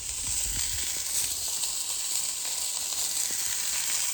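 Sausages sizzling on a Callow four-burner gas plancha, a steady, close hiss of fat on the hot plate with a few low thumps early on, no talk.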